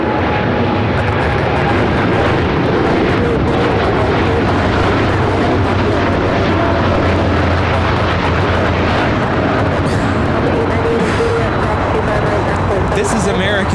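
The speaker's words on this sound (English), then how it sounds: "This is American Airlines Flight 27 taking off to Tokyo Haneda on the 787-8 Dreamliner" An American Airlines Boeing 787-8 Dreamliner departs LAX for Tokyo Haneda, its engines a loud, continuous roar that fills the scene throughout, with people talking over it.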